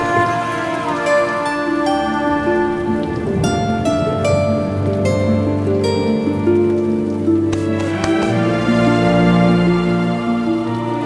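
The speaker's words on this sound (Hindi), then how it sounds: "बेमौसम की बारिश को भी आज ही होना था।" Unseasonal rain falls outside a roadside lodge in a Hindi TV drama, a continuous hiss underneath loud sustained background music, with no speech.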